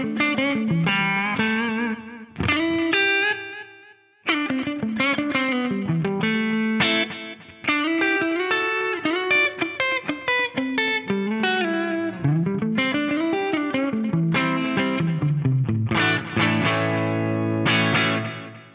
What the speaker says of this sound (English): I'm going for a subtle short delay with that short reverb